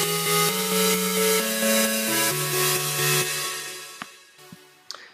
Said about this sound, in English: There's a square synth and there's a pad